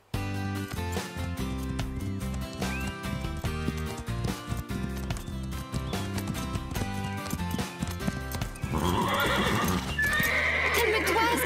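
Nervous cartoon horses neigh and whinny over rapid clip-clopping hooves, with music underneath and a burst of louder whinnying toward the end.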